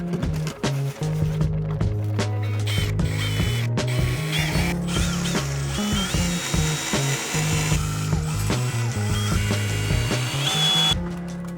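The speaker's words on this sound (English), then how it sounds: "if I drill it into the roof deck" A power drill drives screws into a roof deck in an 1857 rowhome, with repeated close bursts of motor whine and ratcheting clutch clicks, separated by short pauses.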